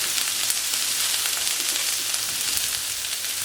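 Whole garlic cloves and herbs sizzle steadily in a hot pan alongside grilled peppers and vegetables, a close, continuous frying hiss with no talk.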